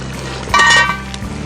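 A metal Dutch oven lid lifts off over a campfire with a brief bright clank, set against low steady crackle.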